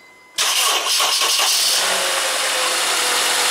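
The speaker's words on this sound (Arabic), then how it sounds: "شوف انه شغل في السيارة" A car engine cranks and fires after a freshly charged 12-volt battery is fitted, a brief sputtering crank that catches and settles into a loud, steady close idle after near silence.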